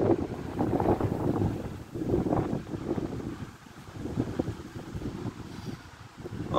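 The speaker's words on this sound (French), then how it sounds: "je vais quand même vous filmer la rafale qui arrive" A strong gust of wind during storm Barbara by the Rhône: loud, roaring buffeting that swells and fades in waves, with heavy low rumble on the microphone.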